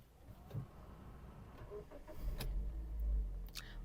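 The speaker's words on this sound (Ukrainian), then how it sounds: "Давайте запустимо двигун." A Mazda 3 with about 116,000 km on it cranks and its engine starts, a loud low rumble building after about two seconds and holding steady, with a few small clicks and mechanical taps inside the car beforehand.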